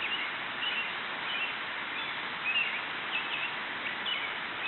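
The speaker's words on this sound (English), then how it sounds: "We hear birds singing." Birds chirp and sing faintly over a steady wash of outdoor city noise, with a few brief bright calls scattered throughout.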